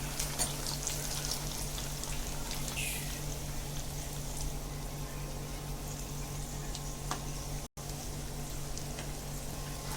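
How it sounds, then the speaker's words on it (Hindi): Poha breakfast snack fries in oil over medium heat until golden brown, a steady, soft sizzling hiss running continuously without pause and with no talking. "इसको मीडियम आंच में हम फ्राई करेंगे और गोल्डन ब्राउन होने तक फ्राई करेंगे इसको"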